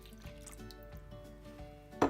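One cup of milk poured into a blender for pancake batter, a faint liquid trickle and drips with a few soft knocks, ending in a sharper clunk.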